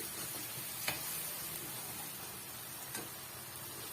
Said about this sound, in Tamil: ஒரு டூ மினிட்ஸ்க்கு இது எண்ணெயிலேயே வந்து நல்லா வந்து வதங்கி வரட்டும்